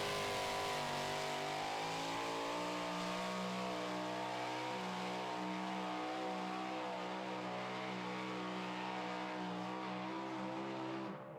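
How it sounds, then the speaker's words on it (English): A super modified two-wheel-drive pulling truck roars at full power during a pull, its loud, sustained engine howl holding steady and close with slight shifts in pitch, with no talk over it. "the engines just sounded absolutely perfect"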